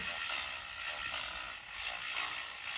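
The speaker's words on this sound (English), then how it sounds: "So get your 5 millimeter here. Loosen this here." A 5 mm hex key loosens the pinch bolts on a bicycle, giving a steady metallic ratcheting clatter at close range, fairly quiet and continuous with no talking.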